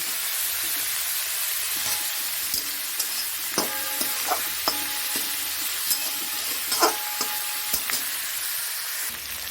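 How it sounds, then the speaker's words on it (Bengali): Tomato, whole green chilies and flattened rice frying in a pan, a steady close sizzle broken by occasional stirring clicks and scrapes, with no talking. "এই টমেটোটাও দিয়ে দিচ্ছি গোটা কাঁচা লঙ্কা দিয়ে দিচ্ছি চিড়ে"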